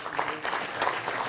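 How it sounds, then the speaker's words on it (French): Steady applause from a crowd at an awards ceremony, continuous clapping at an even level throughout. "On peut encore vous applaudir."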